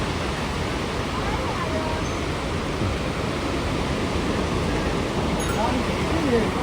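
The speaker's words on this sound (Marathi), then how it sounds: "आता आपण आलोय मालवणचा समुद्र किनारा" Waves wash in a steady, broad roar along the Malvan sea shore near Malvan fort, loud and continuous with no distinct breaks, and no talk heard.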